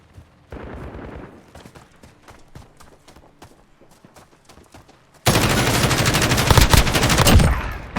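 Overwatch 2 gunfire: sparse single shots crackle through the first half, then a loud, dense burst of rapid automatic fire dominates the last few seconds.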